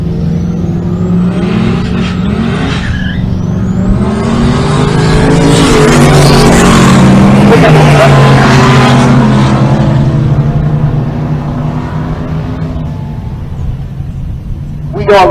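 A Fox Mustang drag race car with an untested engine combination runs at a drag strip in Pueblo, Colorado. Its engine roars loud and close, swelling to a harsh full-throttle peak in the middle and then fading back.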